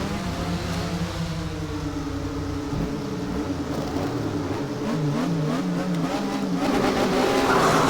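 Several Porsche Mobil 1 Supercup cars in the Race 07 racing game accelerate at Monza. Their engines rise and fall in pitch through gear shifts, with overlapping revs, a loud continuous roar and brief tire squeal.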